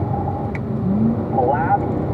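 A blue number 110 race car passes on track during a morning session, its engine a steady mid-level drone with a brief rising pitch as it goes by, under a voice talking.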